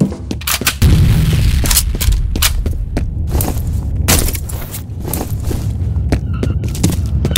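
Grenade blast in a chaotic firefight, a loud close boom followed by rumbling and dense cracks of gunfire and thuds continuing throughout, with voices shouting faintly in the mix.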